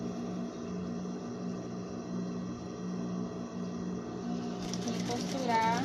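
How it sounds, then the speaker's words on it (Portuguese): A sewing machine runs steadily, stitching over an existing seam while an inset pocket is sewn onto fabric, its close mechanical hum continuous throughout with a brief change near the end. "E costurar por cima dessa costura também."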